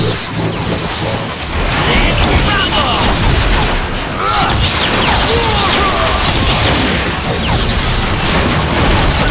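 Cannon fire and explosions in the Transformers: Fall of Cybertron video game, a dense, loud and continuous barrage of booms and blasts with rattling gunfire and mechanical clatter, all layered together without a break.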